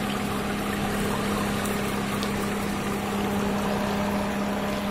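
Water runs steadily through a solar-powered water cooler, an even rushing flow over a constant low pump hum, close and unbroken.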